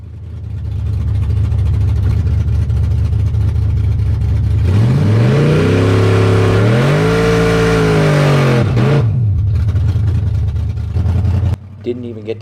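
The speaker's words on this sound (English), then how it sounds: "we decided it was best to go ahead and back up and do another burnout just to make sure" Chevrolet Nova doing a burnout with the hood off, a loud close engine rumble that climbs into a screaming rev with wavering pitch for several seconds, then falls back to a heavy idle.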